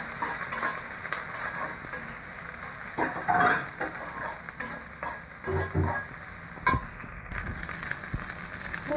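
Onions and garlic frying in hot oil in a wok for beef khichuri, a loud, close sizzle with repeated scraping and stirring clatter throughout, no one speaking.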